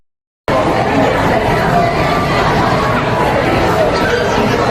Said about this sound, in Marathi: पोलीस स्टँड वर किती गर्दी आहे बघा